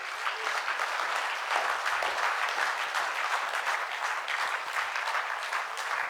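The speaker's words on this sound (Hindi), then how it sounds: "सो एक बार जोरदार तालियां होनी चाहिए टॉप टाइम के लिए।" Loud, dense applause from a large audience, a continuous roar of clapping that holds steady from start to finish with no talk over it.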